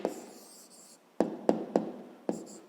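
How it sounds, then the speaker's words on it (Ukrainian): Pen writing an answer on paper in a fifth-grade math exercise, a brief scratchy stroke followed by several short sharp taps and strokes, close and quiet with no talk. "Пишемо відповідь."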